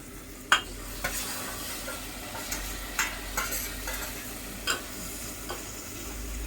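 Goat liver (kaleji) fries in oil with roasted green masala in a village-style pan, giving a steady low sizzle broken by a handful of sharp spatula scrapes and taps spaced about a second apart.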